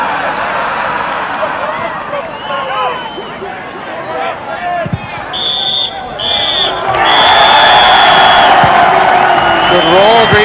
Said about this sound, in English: Good roar greets the half-time whistle